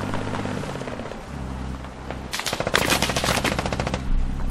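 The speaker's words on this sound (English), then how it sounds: "I'm just taking fire." Sustained machine-gun fire rattles loudly in the military shooter game Squad, coming in fast, close bursts after a quieter rumble.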